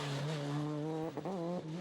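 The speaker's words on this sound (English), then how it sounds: "you can hear the car stopping and starting" Engine of a faltering Peugeot rally car with a fault, a strained harmonic engine note that cuts out briefly and then picks up again, close and loud.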